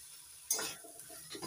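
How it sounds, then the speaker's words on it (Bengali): Spring onion bulbs added to a pan for a broccoli dish, a sudden sizzle and stirring clatter close up that fades into a quieter fry. "ভালো করে ভাজা ভাজা করে নিচ্ছি।"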